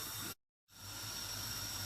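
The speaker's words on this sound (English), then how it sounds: "Now the water is boiling." Water boils in a pot for biryani rice, giving a steady close hiss of bubbling and steam that briefly cuts out before resuming.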